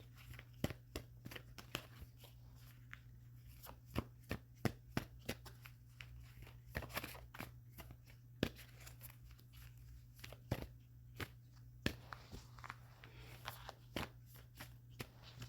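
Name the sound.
shuffling a deck of oracle cards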